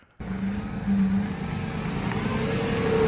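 A Lamborghini Revuelto pulls away, its engine note rising steadily and staying loud and close throughout, with a faint higher whine building toward the end and no voices.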